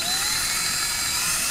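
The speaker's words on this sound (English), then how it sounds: "Drilling into potatoes." A power drill bores into a potato with a loud, high, steady whine that holds close and constant throughout, with no voices.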